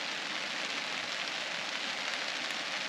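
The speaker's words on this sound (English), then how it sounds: "I think this rain's getting set for the night now" Rain falls steadily on a tent at a wild camp on a riverbank, a soft even patter and hiss with no voices, fairly quiet throughout.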